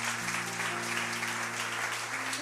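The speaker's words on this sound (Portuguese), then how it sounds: "Aplauda mais uma vez ao Senhor." A church congregation applauds during a worship service, dense steady clapping filling the room at even loudness while a sustained organ or keyboard chord holds underneath.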